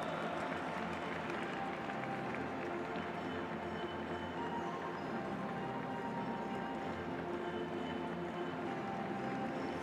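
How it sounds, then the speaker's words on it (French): Spectators at the Grand Palais applauding a show-jumping lap of honour during Saut Hermès, a sustained dense wash of distant clapping and crowd noise rolling steadily through the whole passage. "Et de vous inviter à applaudir maintenant Cadence à l'occasion du tour d'honneur."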